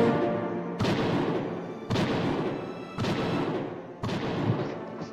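Video game gunfire: four heavy, booming shots fired in a steady rhythm about a second apart, each loud and close with a short ringing tail, no talking.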